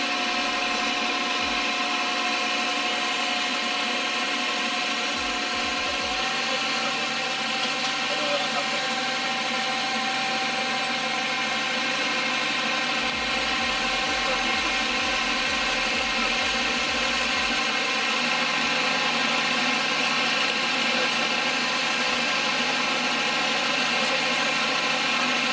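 A heavy tractor engine on a dynamometer test bench drones at a constant pitch for the whole stretch, a loud, unbroken mechanical hum with occasional low thumps.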